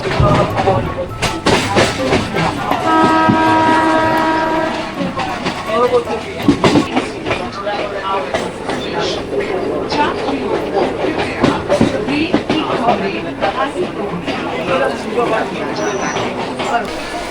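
A passenger train on Eastern Railway pulling into Lalgola station, a loud steady rumble and rattle of carriages with a brief horn-like tone early on and clattering wheels as it slows, close, with a person talking over it.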